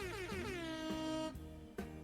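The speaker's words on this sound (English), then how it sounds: "Oh, that was an explosion in an air horn factory." A loud, sustained air horn blares for about a second, then two shorter honks follow, one after a brief pause.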